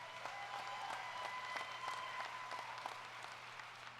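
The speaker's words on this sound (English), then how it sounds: "Please give the Heart of the Community Committee a big round of applause" Faint, distant round of audience applause for a community committee at a Moose lodge session, a dense patter of clapping hands sustained for several seconds with a thin tone running underneath.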